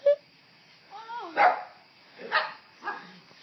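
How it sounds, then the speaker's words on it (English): Excited dogs bark indoors, a short yelp and whine followed by three sharp, spaced barks at moderate distance, fairly loud against a quiet background. "The dogs are going nuts."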